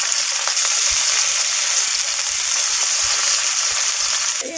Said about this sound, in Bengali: এই মাছগুলো ভাজা হয়ে গেছে